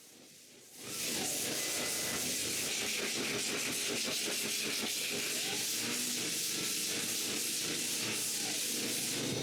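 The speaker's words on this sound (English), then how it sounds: "while the logos are being burned, I do the last sanding" A CNC laser burns logos into wooden drawers while sanding goes on close by, making a loud, continuous rasping hiss with a fast rhythmic rubbing texture that starts abruptly and holds steady throughout.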